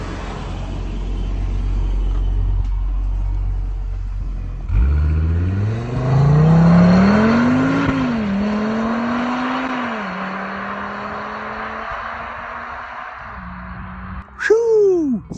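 A blue 2022 Audi RS3 accelerates hard, starting from a low rumble before its engine note climbs steadily through the revs, then holds a sustained strained drone, ending with a sharp rising burst near the close.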